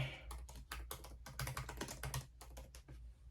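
Rapid keystrokes on a MacBook Pro keyboard while a password is entered, a close, steady run of crisp clicks with brief pauses between bursts, no voices.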